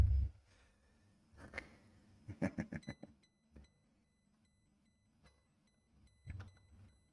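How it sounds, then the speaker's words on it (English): A quiet electronic beep from a battery management system chirps in a short burst of rapid tones, then one more chirp follows later, with soft background clatter in between, during a dual drive controller install. "I will have to kill this BMS from beeping every 2 seconds"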